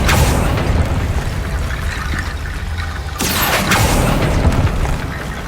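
A Confringo blasting spell erupting in Hogwarts Legacy, loud booming burst with a sudden broadband blast midway, rumbling wash before and after, no voices.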